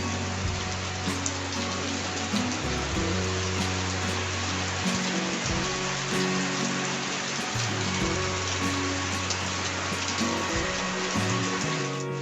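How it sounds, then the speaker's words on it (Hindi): Heavy rain pours steadily on a house in India, a dense, unbroken hiss that fills all twelve seconds up close, with low droning hum beneath and no voices. "बारिश आ रही है इतनी जोर से"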